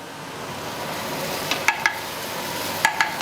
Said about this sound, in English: stir them a little bit now, so it's got a quite thick little bit onto it